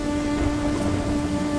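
Steady rain in the open night, falling around a huge mushroom, making a dense, even hiss of drops on surfaces that stays constant and fairly loud with no voices.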